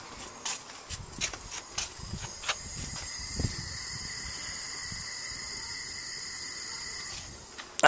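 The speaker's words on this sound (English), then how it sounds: "That sound is the regulator." A propane regulator on an outdoor LP gas fire pit rated at 200,000 BTUs gives off a steady high, thin hiss, with scattered clicks and thumps early on and the hiss continuing alone after that.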